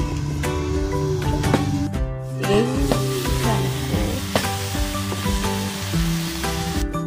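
Pork pieces sizzle and fry in a pot, a loud steady crackle with occasional stirring scrapes, heard up close with no talk.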